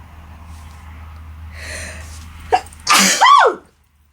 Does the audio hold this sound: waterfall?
no